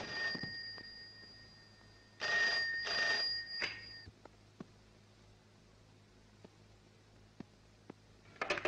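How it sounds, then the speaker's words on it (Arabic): A telephone ringing unanswered in an Egyptian film, a few bursts of electronic ringing early on, then a quiet room with faint clicks and rustles. "تليفون بيرن على الفاضي"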